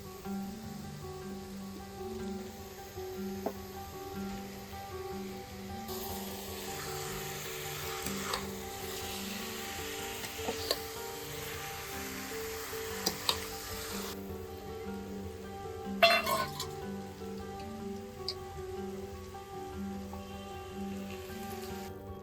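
Jackfruit pieces fry in a pan for a jackfruit and prawn curry, giving a continuous soft sizzle like light rain, with occasional scrapes and knocks from stirring.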